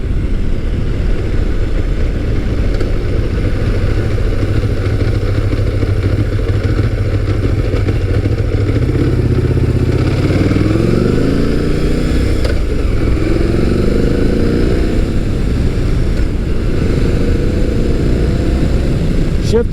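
A Motus MSTR with a 1650cc V-4 engine drones loudly and continuously while being ridden, its pitch climbing and shifting midway as it accelerates through gears, with rushing wind around it.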